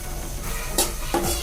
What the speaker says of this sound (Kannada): ಅದನ್ನು ಚೆನ್ನಾಗಿ ಹಸಿ ವಾಸನೆ ಹೋಗೋ ಥರ ಫ್ರೈ ಮಾಡಬೇಕು